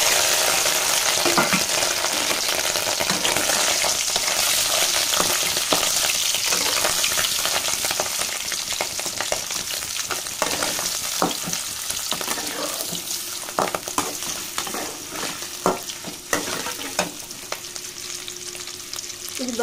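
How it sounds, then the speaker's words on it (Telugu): Liver frying in a pan while being stirred, a loud continuous sizzle with frequent scraping and stirring clatter that eases slightly toward the end, no talking. "లివర్ ఫ్రై చేసేసుకున్నాం"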